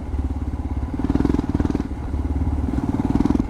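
A Royal Enfield Himalayan motorcycle with a Lextek exhaust burbles with a deep, pulsing throb, the engine note rising and falling slightly, close and loud with no voices.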